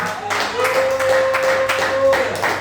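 A church congregation at a marriage conference clapping for Jesus, dense rhythmic hand-clapping in repeated bursts close by, with a sustained tone held underneath.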